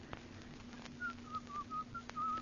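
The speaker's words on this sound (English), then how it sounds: "Oh, stop whistling that turkey in the straw." A person whistles a short melodic phrase of the folk tune Turkey in the Straw in an old radio drama, several thin clear notes in quick succession, faint and alone over a hissy background.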